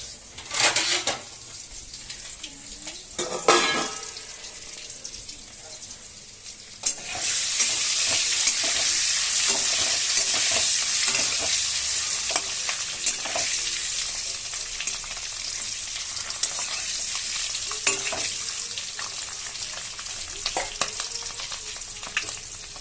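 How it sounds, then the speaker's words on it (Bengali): Eggs frying in a pan of oil, soft sizzling and utensil clatter at first, then a loud sustained hissing sizzle from about a third of the way in, with occasional scrapes and taps from stirring. "আর এখানে ডিম ভাজা করে দেবো।"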